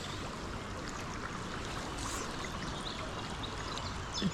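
Flowing river, a steady broad rushing wash of water that stays constant and moderately close throughout, with no voices.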